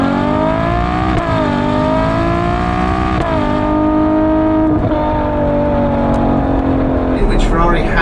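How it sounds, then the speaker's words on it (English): A Ferrari 812 Competizione's naturally aspirated engine sings loud and close, rising and falling in smooth rev sweeps with gear-change dips before easing off near the end. "I like the sound of the engine."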